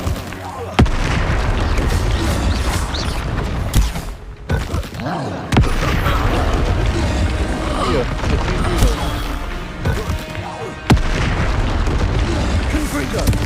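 Confringo and Incendio spell blasts in the Hogwarts Legacy video game, a run of loud booming bursts with sharp onsets around one, five and a half and eleven seconds over continuous dense combat noise, with voices heard throughout.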